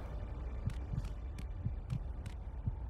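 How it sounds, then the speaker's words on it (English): A low-health heartbeat effect in a video game pulses in steady paired thumps, about one beat every half second, under a constant low hum of game ambience, with no talking. "Why am I getting a heartbeat noise"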